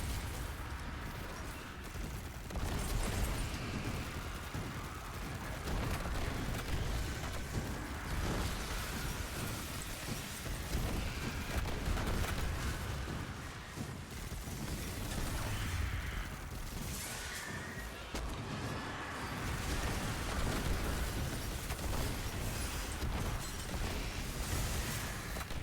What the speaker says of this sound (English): Too many explosions!